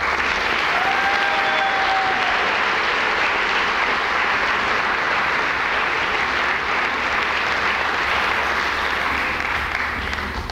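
Loud, sustained applause from a large audience at a college honors convocation for award and prize recipients, with dense clapping holding steady for over ten seconds.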